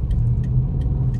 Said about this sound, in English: The guy with the loud truck.